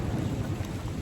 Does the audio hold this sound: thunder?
yes